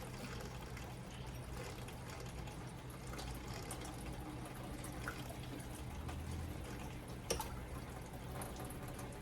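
An AlkaViva water ionizer running purified water, a steady continuous stream of pouring, trickling water that stays even and moderately close for the whole stretch, with no voices.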